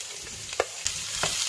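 Potatoes and chopped onion frying in a pan, a steady close sizzle with a few soft stirring scrapes breaking through.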